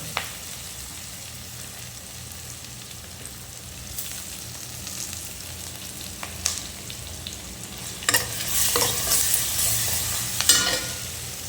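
Sliced onions drop into hot oil with curry leaves in a pan for a chicken gravy, giving a steady sizzle and frying hiss that swells louder near the end as they are stirred.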